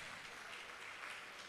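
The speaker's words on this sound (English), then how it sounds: "So a round of applause." Faint, even applause from an audience at an architects' conference, a continuous wash of many hands clapping without voices, sounding distant and quiet.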